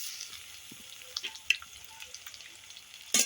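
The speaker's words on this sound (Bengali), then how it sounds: "কুড়ানো নারকেলটা একটু ভেজে নেব।" Grated coconut fries in oil seasoned with bay leaf and nigella seeds, soft sputtering crackles and light stirring scrapes close by, ending in a brief louder burst of sizzle, with no talk.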